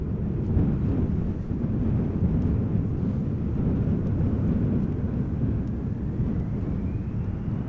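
Embraer 175 regional jet departing from a large airport, a loud, deep rumbling engine roar with wind buffeting the microphone, sustained and steady throughout with no talk.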